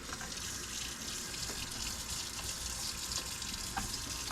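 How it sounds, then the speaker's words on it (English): Tap water runs steadily while pike fillets are rinsed, a close, even splashing gush with faint clinks, continuous for the whole stretch and free of speech. "you're going to want to rinse those fillets off"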